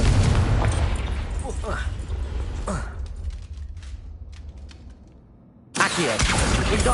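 A Confringo fire spell goes off during a Hogwarts Legacy fight, a loud boomy blast sustained for several seconds with crackling bursts, a lull, then another loud eruption near the end, with a voice talking over it.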